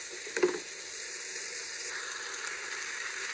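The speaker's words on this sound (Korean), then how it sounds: "양파 듬뿍 넣고 베이컨, 버터, 김치 볶아주겠습니다" Onion, bacon, butter and kimchi sizzle in a pan during stir-frying for kimchi fried rice, a steady faint hiss with a small clink of a utensil near the start.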